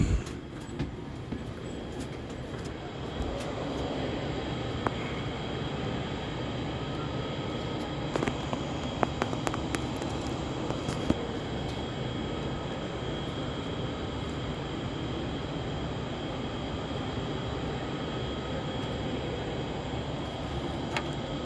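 Steady droning cabin noise inside a small airplane in flight, a loud constant engine and airflow roar with occasional faint clicks and rattles, no voices.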